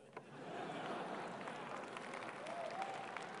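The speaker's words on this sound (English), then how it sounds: "The bottom half's applauding." Faint, distant audience applause rolls through a lecture hall, a soft sustained patter of many hands with a little crowd murmur, low in level throughout.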